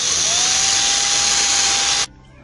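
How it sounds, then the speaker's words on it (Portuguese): A power drill boring a hole through the center of a homemade reflector disc for a wifi antenna, a loud steady high-pitched whine held close for about two seconds before cutting off abruptly. "a gente vai ter que fazer agora um furo aqui no centro"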